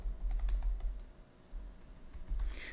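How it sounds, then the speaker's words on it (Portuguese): Rapid key clicks from a computer keyboard during SQL Server login setup for a TOTVS Protheus install, close and crisp in irregular bursts with a short pause midway, no voices. "No campo ID de logon, você vai digitar o nome do usuário que você criou no SQL Server."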